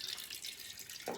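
A soda can being filled with water at a sink, a steady faint hiss of running water throughout with a brief louder splash near the end.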